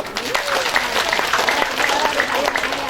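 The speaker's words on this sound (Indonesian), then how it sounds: "Tepuk tangan." Steady applause from a crowd, dense clapping that continues throughout with some voices mixed in.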